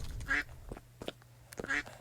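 A cartoonish duck quacks twice in a bird obby video game, two short, bright, nasal quacks about a second and a half apart, each followed by softer game blips, with no voices.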